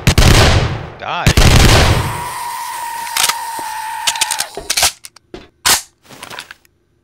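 Video game gunfire: loud, sustained bursts of shots at first, then scattered sharp single cracks and short volleys with gaps of quieter game sound between them.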